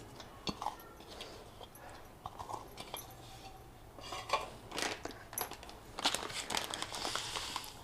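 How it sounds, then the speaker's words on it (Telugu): Fresh fenugreek leaves are finely chopped in a sequence of irregular crisp taps and crinkly rustles, close by and moderately quiet, growing busier and louder toward the end, with no voices. "మెంతాకు సన్నగా కట్ చేసుకొని"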